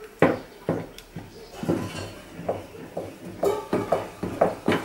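Maize meal porridge beaten hard in a pot, each stroke a close knock and scrape of the spoon against the pot in a steady, slightly uneven rhythm.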